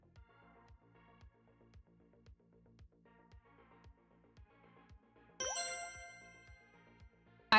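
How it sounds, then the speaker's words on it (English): A single bright notification ding rings out clearly and fades slowly over a couple of seconds, sounding over a soft, steady rhythmic background pulse, with a brief sharp sound at the very end. "I heard a vague notification"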